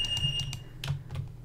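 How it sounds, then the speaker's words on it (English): A fire pager emits a high steady electronic tone, close and clear, alongside scattered clicking taps in a quiet room. "Oh, there's the fire pager."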